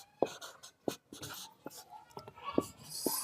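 A pen writes out a maths solution by hand on paper, with soft scratchy strokes and a few sharper taps as marks and symbols are made. Quiet and close, with faint breathy murmuring in places.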